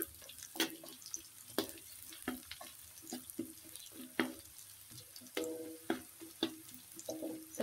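Petai beans sautéing in a pan, a soft background sizzle broken by sharp clicks and scrapes of stirring at irregular intervals, fairly quiet and close.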